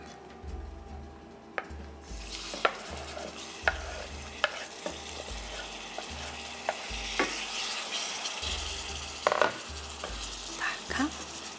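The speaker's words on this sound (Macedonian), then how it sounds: "Ставам малку масло. Треба дрвена лашица." A wooden spoon stirring oil in a pan as cooking begins, with soft sizzling under repeated scrapes and clicks of the spoon against the pan, close and fairly quiet.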